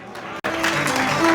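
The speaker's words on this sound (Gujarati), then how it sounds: "એટલે એક વખત ભાઈઓ તમે તાળી પાડો" Men in an audience at a community felicitation gathering burst into applause, a dense, loud clatter of clapping that begins abruptly after a brief gap and continues steadily.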